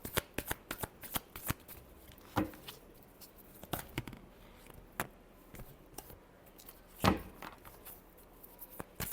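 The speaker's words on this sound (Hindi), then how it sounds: "Last shuffle." Tarot cards are shuffled by hand in quick bursts of riffling and tapping, close and fairly quiet, with sharp slaps and scattered clicks between pauses and no talking.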